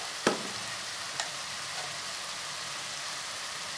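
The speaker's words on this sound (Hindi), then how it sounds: "अच्छा सा भून लूँगी मैं।" Tomatoes and spices fry in a pan with a steady, close hiss and sizzle, broken by a couple of brief taps, and no voices.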